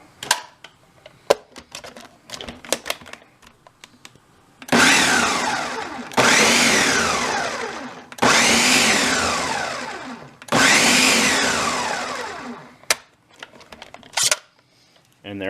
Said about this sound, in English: we just want to blend this till it's incorporated all the way through